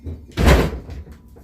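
A porch door on a windy day in Kentucky bangs once with a heavy thud, preceded by a softer knock and followed by faint rattling as it settles.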